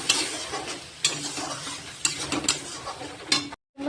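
Marinated loitta fish with garlic, onion, ginger and spices is stirred in a frying pan, giving a steady sizzle broken by several sharp scraping strokes of the spatula, ending in a brief silence.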